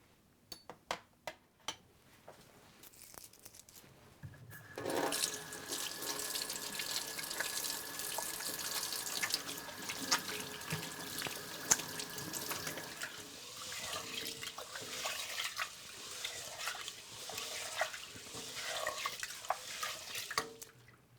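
Running tap water pours steadily into a bowl of whole lentils with sloshing and rinsing noises, preceded by a few sharp clicks; no voices.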